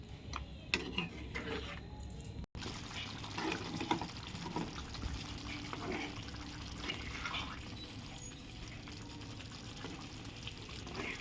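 A green Begum Mati chicken curry is stirred in a pot, making wet, sloshing liquid sounds and soft clinks close by, with faint background noise and no clear talking.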